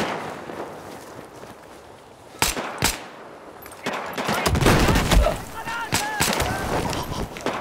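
Desert Eagle pistol fire in Battlefield 4 during a pistol-only match: two sharp shots crack close together, then a busier stretch of repeated gunfire and distant battle noise follows.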